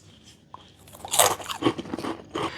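Potato chips crunched and chewed close up, a quick run of sharp crispy bites and munching bursts with brief pauses between them, no talking.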